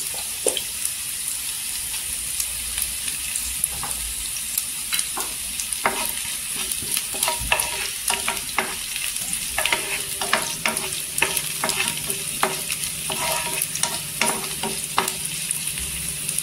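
Garlic and roasted peanuts frying in a pan while being stirred, a steady close sizzle broken by frequent scraping and clinking strokes of the spoon, no talking.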